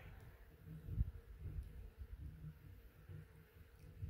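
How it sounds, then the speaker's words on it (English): Bees buzz around a fallen bee tree blown over by wind, a faint low drone close to the microphone with light wind noise. "there's a lot more bees up in this part than what I expected"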